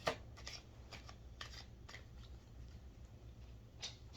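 Cards riffle and snap together in quick, repeated bursts, a soft close-up shuffling rhythm with brief pauses between passes.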